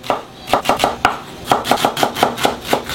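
A kitchen knife cuts ginger sticks into small dice on a board, giving a steady run of about a dozen crisp, close chops in an uneven rhythm, with no talking.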